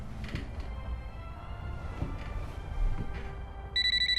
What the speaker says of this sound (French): Enfin, le téléphone sonne.